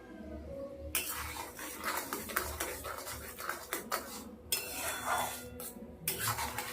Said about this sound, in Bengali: আস্তে আস্তে এভাবে নাড়িয়ে নাড়িয়ে চিনিটাকে গুলিয়ে নিতে হবে আর আমটা আস্তে আস্তে একটু ঘন করে নিতে হবে